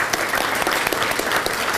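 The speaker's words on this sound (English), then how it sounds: "let's give Karen a big round of applause" Applause for Karen, a leader honoured at a Rhode Island Alliance for Retired Americans gathering, a steady burst of many hands clapping close by for nearly two seconds.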